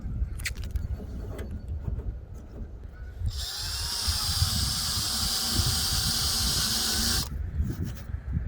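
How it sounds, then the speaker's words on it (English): An eraser wheel on a drill removes adhesive from a car roof, giving a loud, sustained high-pitched whine and squeal for about four seconds, with quieter handling noise before and after. "the eraser wheel doesn't really work on vinyl. It'll work on the adhesive."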